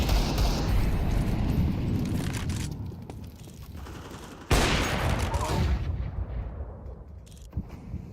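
An incendiary grenade's fire burns in Counter-Strike 2 as a dense, loud roaring wash of noise, with a sharp surge midway and faint voices in the game mix.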